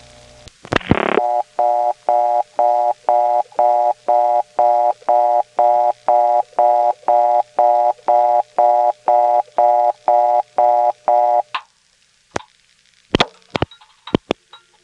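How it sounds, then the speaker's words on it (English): A step-by-step telephone exchange returns an interrupted tone after a lone digit 1 is dialed: a steady, loud beep pulsing in even, rapid bursts for about ten seconds, framed by clicks and clunks of the switching gear. "if you dial the 1 without the 2, you get this"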